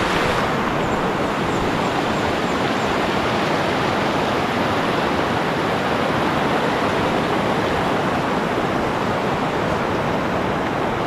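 A river current flows in a dense, unbroken rushing wash of water, loud and close, with no voices over it.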